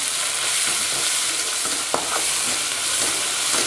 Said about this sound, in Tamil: இது நல்லா ஒரு அஞ்சு நிமிஷம் நல்லா வதக்கி விட்டுக்கலாம்